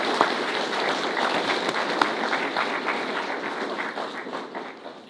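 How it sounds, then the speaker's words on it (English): An audience at a certificate ceremony applauds with sustained, dense clapping that holds steady and then gradually thins toward the end, moderately close. "I think all those people that received their certificates today need another round of applause."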